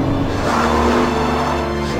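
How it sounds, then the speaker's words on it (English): Aston Martin V12 Vantage engine running on a track, a steady, loud, full-bodied drone held throughout without pauses. "Just listen to the engine, it's just stonkingly good."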